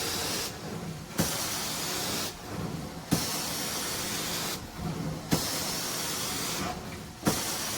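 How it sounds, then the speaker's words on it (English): A pump sprayer hisses carpet-cleaning pre-spray in four long bursts, each ending with a soft click, and short quiet pauses fall between the sprays. "We'll get that on a pump spray or pre-spray."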